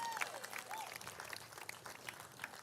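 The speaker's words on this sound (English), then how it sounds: "a round of applause for them again" Scattered applause from a cricket presentation crowd at a women's T20 championship match, faint and sparse with a few sharper claps, mixed with distant voices and a brief whistle-like tone.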